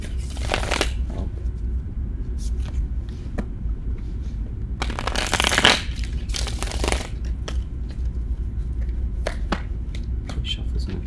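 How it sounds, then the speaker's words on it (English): Tarot cards are shuffled by hand, three times and then cut, in close, crisp bursts of riffling and snapping, separated by quieter handling. "Three shuffles and a cut."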